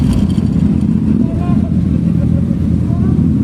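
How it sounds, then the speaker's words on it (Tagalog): Big BMW motorcycles pass on a road beneath a flyover under construction in Tagaytay City, a steady loud engine rumble that holds for the whole moment, with talk faintly mixed in. "Ito yung mga big bikes sa baba."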